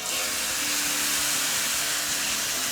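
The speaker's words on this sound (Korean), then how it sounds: "48시간 이제 숙성한 목살을 이렇게 올려주고 한 면이 어느 정도 익을 때까지 기다렸다가" Marinated pork neck, aged 48 hours, sizzling on a hot electric grill pan: a steady, dense hiss and crackle, close and continuous, with no talk over it.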